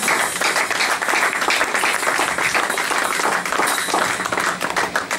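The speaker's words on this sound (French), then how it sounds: "Acclamons très fort." A church congregation applauds loudly together, dense continuous clapping for about five seconds, close and even with no voices on top.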